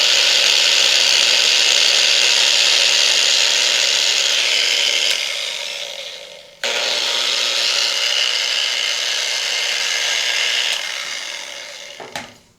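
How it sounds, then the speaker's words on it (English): An 11 amp angle grinder runs on a Pecron E600 LFP power station, giving a loud steady high whine that spins down around five seconds in, restarts abruptly, then winds down again near the end with no talking. "this is a 11 amp angle grinder"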